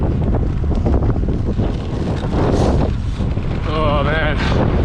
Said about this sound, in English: Pretty much been a swirling, gusty headwind all the way into Murchison